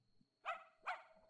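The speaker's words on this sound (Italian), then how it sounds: "Questi mugoli continui non mi fanno addormentare. Sarà un cane?" A dog in an animated Yo-Kai Watch episode gives two soft, brief whimpering yips spaced apart, faint against a quiet background with a steady electronic hum.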